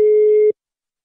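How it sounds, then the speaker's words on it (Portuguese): A single steady telephone line tone sounds as a call is placed, holding for about half a second before cutting off into silence. "eu vou ligar pra Wilson"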